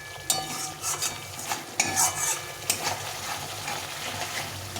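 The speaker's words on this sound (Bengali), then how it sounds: "আমি টক দইটা দিয়ে দেবো দিয়ে আবার একটু কষিয়ে নিতে হবে" Cashew paste and sour yogurt being sautéed in oil in a pan for a vegetarian aloo dum: scraping, stirring strokes over a low sizzle, close and fairly quiet, with no talking.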